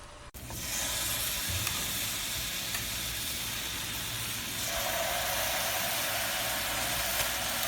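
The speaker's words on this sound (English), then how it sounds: "We're going to get it nice and hot and wait for that sizzle." Steady loud sizzling of salmon frying in a hot pan, a continuous hiss that starts abruptly and holds without pause.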